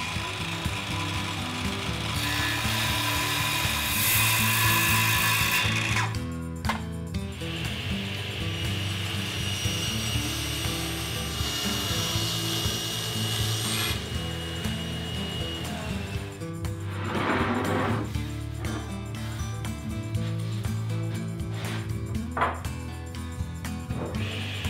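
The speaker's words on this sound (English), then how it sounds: "next I'll cut it to size" A power tool cuts a wooden cabinet top to size in a workshop, a continuous loud whirring drone with shifting pitch and brief breaks as the cut progresses, no talk.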